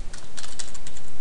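Keyboard typing while entering a group policy name on a computer, a quick run of key clicks in a short steady burst, without any talking.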